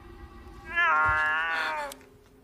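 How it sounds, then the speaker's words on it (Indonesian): A cat meows once, a long drawn-out harmonic cry lasting about a second, clear and close over a quiet background, heard over a telephone in a Japanese horror film. "Mendengar suara kucing dari telepon"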